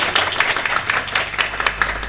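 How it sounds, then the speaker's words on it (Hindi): An audience claps steadily in scattered, overlapping applause, moderately loud and continuous, with no voice over it. "एक बार पुरजोर तालियां, हाथ उठा के तालियां प्रेम भाई के लिए समस्त लोग"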